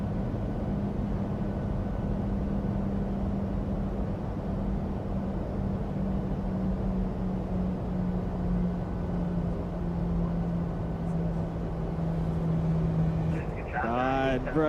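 Simulated Boeing 737 jet engines in Microsoft Flight Simulator spool up in a steady, loud whining drone with a gradually shifting hum. A voice briefly speaks near the end.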